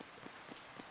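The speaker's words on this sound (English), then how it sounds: "I like the walk in the rain." Steady rain patters on a surface outdoors during a storm, a soft continuous hiss with faint individual drops, heard alone and fairly quiet.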